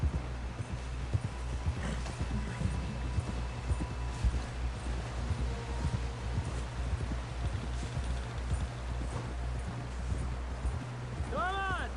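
Hooves of a horse galloping in Red Dead Redemption 2 pound in a steady, rhythmic clip-clop close by, with wind and a muffled voice talking over the hoofbeats.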